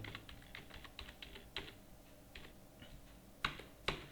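Keys clacking on a computer keyboard while filling in a form in Tally Prime accounting software: scattered irregular taps with a few louder, sharper strikes near the end, close and clear with no talking.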